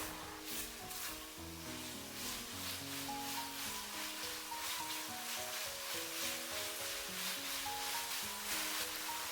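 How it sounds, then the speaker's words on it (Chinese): Chopped garlic stir-frying in a wok, a soft crackling sizzle with scraping bursts heard under background music. "再下入切好的蒜末，煸炒出蒜香味"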